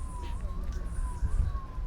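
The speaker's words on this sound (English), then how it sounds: "You'll wait till that siren's out." A siren wails outside during a radio interview in Jamaica, its tone sliding slowly up and down at a steady moderate distance, heard over low room rumble and faint background noise.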